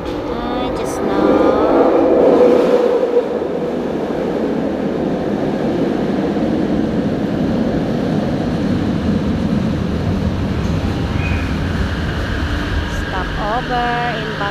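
An LRT train rolls into Bangsar station in Kuala Lumpur with a broad rumbling roar and squealing brakes near the end, while a person talks over it.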